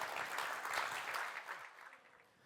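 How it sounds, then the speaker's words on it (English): Audience applause for the judges at a pitch competition show, a burst of clapping that holds steady and then thins out and fades toward the end. "round of applause for all of our judges"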